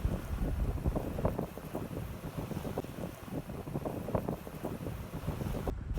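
A 42ft catamaran under sail between Culebra and Puerto Rico, with steady wind rushing across the microphone over a low, continuous wash of water and hull noise.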